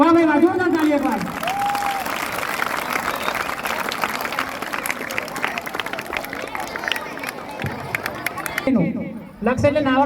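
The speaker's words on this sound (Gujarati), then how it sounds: "જોરદાર તાળી એક વાર" Crowd applause at a village high school Independence Day celebration in Manfara, sustained clapping mixed with cheering and chatter, with a voice speaking at the start and near the end.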